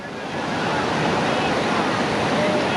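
Rushing whitewater rapids on the Lower New River in West Virginia roar steadily and loudly as a raft runs through the waves, a broad continuous splashing that swells slightly after the first half second.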